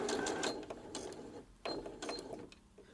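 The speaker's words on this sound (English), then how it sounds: "Let's start sewing. We're going to start with some back stitches" A sewing machine runs back stitches on cotton pads, quiet mechanical clicking and ticking with soft whirring bursts, faint and close with small pauses between runs.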